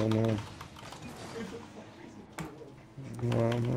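Computer keyboard clatter during a Rocket League gaming session, a soft continuous patter of keystrokes running under excited voices that talk over it, with the speech louder than the typing.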